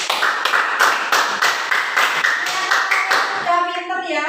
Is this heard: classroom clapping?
yes